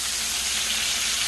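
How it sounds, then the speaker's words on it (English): Beef steak, salted and peppered, frying in an iron skillet for Swiss steak, giving a steady close sizzle with hissing steam throughout and no voices. "the meat here is doing its frying."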